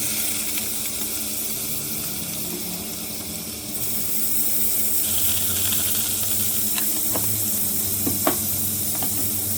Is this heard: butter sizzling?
yes